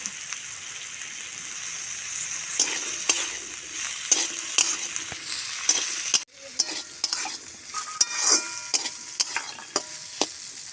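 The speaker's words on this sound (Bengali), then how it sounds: "আলুটা ভাজা হচ্ছে, এর সঙ্গে এবার আমি ডাঁটাগুলো ভেজে নেব।" Potatoes and vegetable stalks sizzling in a pan over a dung-cake fire, with a constant loud frying hiss and repeated sharp scrapes and clinks from stirring, close up and without speech.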